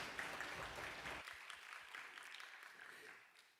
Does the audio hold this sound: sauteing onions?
no